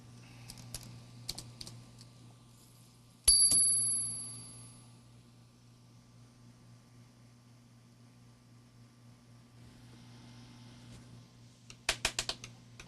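A Juki Sierra typewriter under repair, with scattered sharp mechanical clicks, one loud ringing clack that decays over about a second, then a quiet stretch and a quick burst of rapid clicks near the end, all over a low steady hum.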